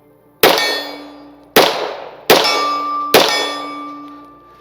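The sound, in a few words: Springfield 1911 pistol shots hitting steel target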